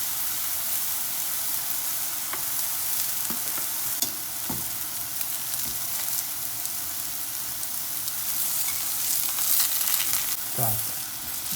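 Eggplant slices fry in hot oil in a pan with a steady sizzle and hiss, broken by a few clinks and scrapes as the slices are turned over, with no voices.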